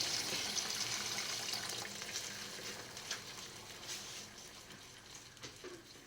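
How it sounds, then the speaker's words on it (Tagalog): Water runs and splashes steadily into a pot for chicken soup, a continuous close-up pour with a hissing, sizzling texture that gradually softens. "Nalagyan ko na siya ng tubig"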